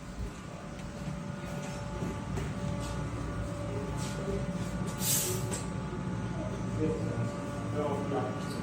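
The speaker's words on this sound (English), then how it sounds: "This is how that tram I rode works." A tram running in Heidelberg gives a steady mechanical rumble and hum with faint squeals and a brief hiss. It is heard from on board or nearby, with people talking over it.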